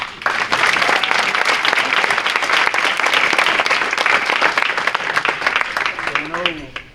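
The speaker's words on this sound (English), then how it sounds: "Let's give a last round of applause for Danny Burnett." Loud, dense applause from a full audience at a semi-pro baseball Hall of Fame induction ceremony, sustained steadily for several seconds before tapering, with a voice starting up near the end.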